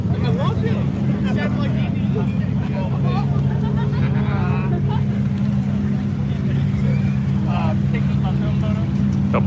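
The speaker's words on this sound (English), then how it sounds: "Johnny's going to lead the way in the R8, Ted 7 in the Abarth." Several sports cars, including an Audi R8, an Abarth, Karmas and a 2018 Porsche 911 GT3 Touring, idle and pull away from a rally starting grid, a steady loud engine drone with passing revs under people talking nearby.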